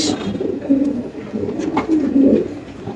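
At a pigeon market, pigeons coo in low, rolling, repeated calls, close by, with faint background noise and a little indistinct voice.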